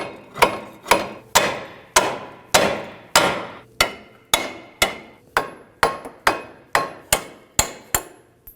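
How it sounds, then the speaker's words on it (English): Sharp metal hammer blows tap a ball joint out of a 2008-2011 Ford Focus front lower control arm, about a dozen evenly spaced ringing strikes, close and alone. "Now we're just going to go ahead and come on in here and tap this out."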